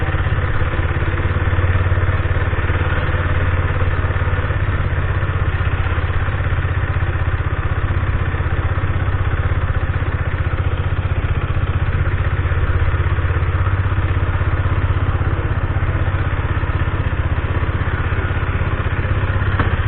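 A Husqvarna Svartpilen motorcycle idles with a steady, rough, clattering engine rumble that stays loud and constant for the whole stretch, with no talking.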